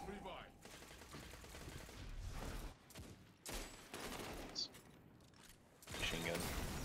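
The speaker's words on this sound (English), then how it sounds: "Machine gun." Gunfire bursts in a Destiny Trials match, dense loud volleys with brief gaps and sharp transient cracks, heard under players talking over voice chat.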